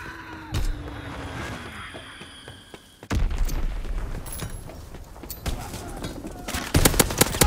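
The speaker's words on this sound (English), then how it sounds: "Enemy bomb incoming. Get to cover." Heavy bomb explosions and gunfire from the World War II shooter video game Call of Duty: WWII. A few loud booming impacts break in at intervals, with a strong blast near the middle and rattling shots after it.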